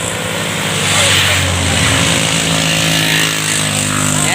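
Traffic noise from motorcycles and bikes passing on a road, a loud continuous engine drone with rising and falling tones close by, overwhelming any other sound.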